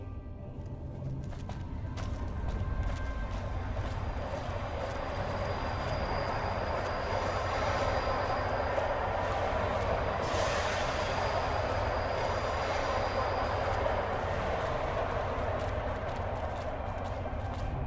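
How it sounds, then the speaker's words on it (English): A monorail train departs in Fallout: New Vegas, a steady rising rumble and rolling roar that builds and holds at moderate loudness, with no talking. "The train is about to depart."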